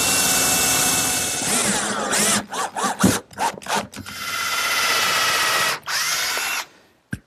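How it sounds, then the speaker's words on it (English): A power drill driving screws into glued center partitions of a wooden workshop hutch: a sustained whirring run, then a series of short stop-start bursts, followed by another long drive and a final brief burst, close and loud with no talking. "install these center partitions with some screws"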